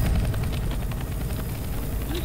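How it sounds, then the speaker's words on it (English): A helicopter in Left 4 Dead 2 whirs with a dense, steady rotor and engine roar, loud and close, constant for the whole stretch with no talk. "A chopper!"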